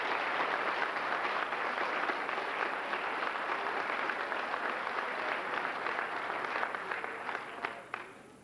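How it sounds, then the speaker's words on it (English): Steady applause from an audience at a 2000 school D.A.R.E. graduation, dense clapping holding for about seven seconds before thinning and fading out, fairly distant and without speech. "Let's give them a round of applause also."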